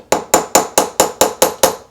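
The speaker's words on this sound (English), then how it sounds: "we can just get a little hammer" Seven evenly spaced sharp metallic taps from a small hammer flattening a part during RC crawler kit assembly, close and fairly loud, with no voices.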